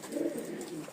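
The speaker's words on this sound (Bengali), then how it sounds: "রাজশাহীতে যেহেতু আছি, এই যে দেখেন কবুতরের অভাব নাই" Pigeons coo softly at a house in Rajshahi, Bangladesh, in a short run of close, murmuring calls with no talk over them.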